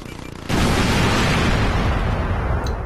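A grenade blast in the video game Crackdown bursts suddenly and loudly, its roaring boom sustained for a couple of seconds before tapering off, alone without talk.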